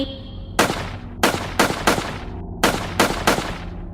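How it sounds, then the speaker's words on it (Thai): Seven sharp gunshots ring out in an uneven sequence, loud and close, each with a short echoing tail. "เสียงปืนดังสนัน่น"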